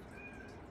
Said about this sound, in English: my cat's going crazy with the meows